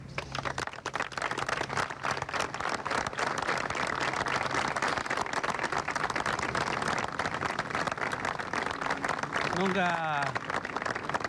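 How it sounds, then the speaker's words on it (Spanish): A group applauds with steady, continuous clapping throughout, while a voice talks over it toward the end. "Le doy un aplauso yo"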